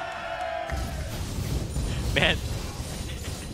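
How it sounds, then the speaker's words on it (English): A live esports crowd at a League of Legends grand final roars and cheers in a sustained wash of noise, with a commentator's voice talking over it. "Everybody's just cheering for the death of these wards."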